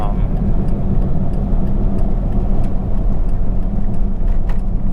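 Off-road vehicle on knobby tires driving through Coyote Canyon in the Anza-Borrego desert, a steady, loud, close rumble of engine and tire drone with no break across the stretch.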